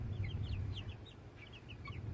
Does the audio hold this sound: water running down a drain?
no